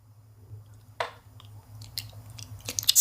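Someone chews a tiny water jelly up close, with a few soft squishy bites and faint wet crunches over a low background hum, no talking.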